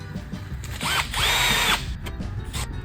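Power drill running while repairing a chicken coop: a loud whirring burst that spins up, pauses briefly, then runs again for under a second amid nearby clatter.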